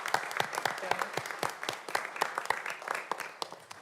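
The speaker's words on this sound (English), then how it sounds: "let's give her a round of applause" An audience gives steady, moderately loud applause at a city council meeting, with dense overlapping claps throughout and no talking.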